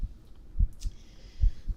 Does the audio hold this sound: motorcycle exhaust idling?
no